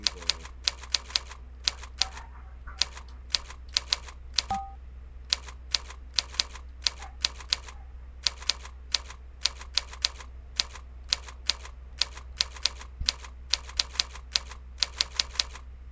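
Fingers tap fast on a computer keyboard during touch-typing practice, producing irregular bursts of crisp clicks that pause briefly and resume over a low steady hum, with no talk.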